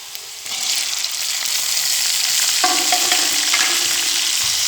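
Tomatoes and onions fry together in a pan for potato curry (aloo ki bhujia), a strong, close, continuous sizzle that swells after the first half-second, with faint stirring scrapes and no voices.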